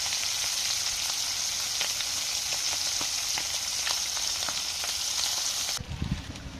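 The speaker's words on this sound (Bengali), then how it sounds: "মাছ ভাজতে থাকি, আবার ভাজা হলে পরে নামাবো" Fish fries in a hot pan with a loud, dense, continuous sizzle close by, cut off near the end by a brief clatter.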